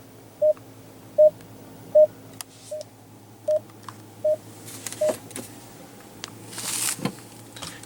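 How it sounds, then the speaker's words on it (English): Rear parking sensor of a 2015 Dodge Charger with a 5.7 L V8, seven evenly spaced short beeps about 0.8 seconds apart over a faint cabin background, no speech. "And you also do have rear parking sensors,"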